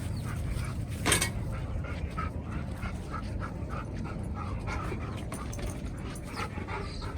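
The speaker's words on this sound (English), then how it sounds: "hey dogs, get away" Dogs on a farm during morning chores, with faint whimpers, yips and panting from close by over a steady background rush and one brief louder burst early on.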